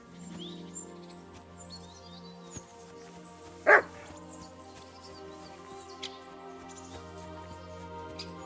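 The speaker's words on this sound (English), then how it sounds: "Barking. He's coming from over there." A single short, sharp dog bark rings out in the medieval world of Kingdom Come: Deliverance II, standing out over a quiet, sustained background of ambient tones.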